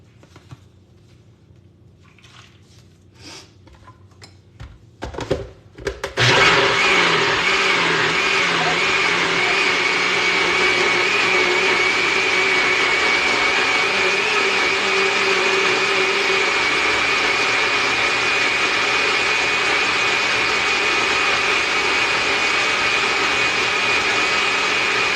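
A blender grinds plant-based egg ingredients such as serrano pepper, potato starch, oil and seasoning. A few clicks and bumps come first, then the motor starts abruptly and runs as a loud, steady whir for about twenty seconds.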